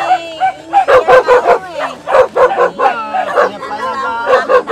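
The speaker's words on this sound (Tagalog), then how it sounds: "Parang ang dami yung aso, Nay." Several dogs bark close by in a rural yard, their yips, whines and rapid barks overlapping in a continuous noisy chorus.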